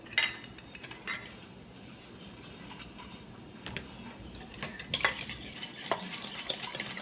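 Egg yolks and oil being whisked together for mayonnaise in a bowl, soft irregular metal tapping and scraping clicks, fairly quiet and close, with no talking.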